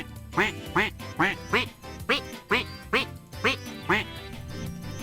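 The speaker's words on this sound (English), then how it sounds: "we have a shiny rubber duck, which becomes the evil duck." A cartoonish rubber duck in the Roblox fishing game Fisch quacks loudly about nine times in a steady rhythm, each quack a sharp nasal honk, over soft game background sound.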